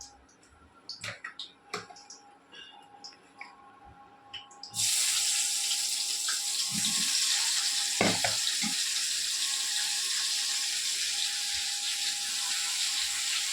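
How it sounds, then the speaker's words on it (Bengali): Eggplant pieces coated in turmeric and salt drop into hot oil and set off a loud, steady sizzle of frying that starts abruptly and carries on to the end, preceded by a few scattered kitchen clinks. "মামা একবারেই পুরো বেগুনগুলোকে দিয়ে নিল। হ্যাঁ, এবার এটা ভাজবে"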